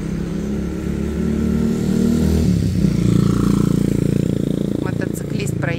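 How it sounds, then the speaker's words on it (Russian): A motorcycle passes on a beach road by a bay at Ao Yon Beach, Phuket, its mid-pitched engine droning steadily and swelling as it rides close by, over a constant background of traffic noise. "Мотоциклист проехал."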